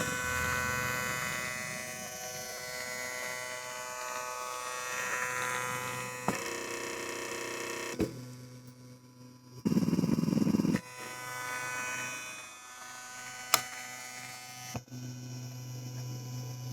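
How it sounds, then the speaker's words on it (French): A SwitchBot Pan/Tilt indoor security camera gives off a faint, steady electric motor hum and buzz at close range, with a brief louder whirring burst midway and a few soft clicks. "la caméra émet un petit bruit que l'on entend lors des enregistrements"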